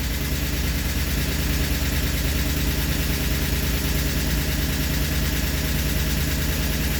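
A 318 engine idles at 1200 RPM while running very rich, producing a loud, close, steady rumble that holds evenly throughout with no voices.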